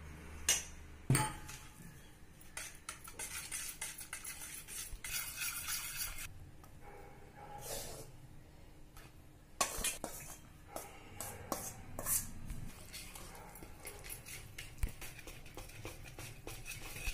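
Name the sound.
mixing cake batter of milk, powdered sugar and oil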